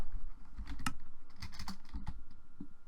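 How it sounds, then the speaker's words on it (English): Fast, close clicking of keys on a computer keyboard comes in uneven bursts of several strokes with short pauses between them, with no talking. "Come on, typing."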